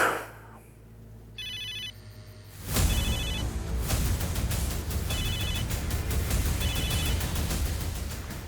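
A telephone rings in short repeated electronic bursts over a steady hiss, with a few chimes sounding near the start.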